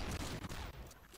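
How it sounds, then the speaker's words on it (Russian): In a swamp-hunting video game, an acid launcher fires a rapid burst of several sharp, crackling discharges in under two seconds, fairly faint overall. "появился у нас кислотомет, и мы сейчас попробуем кого-то застрелить"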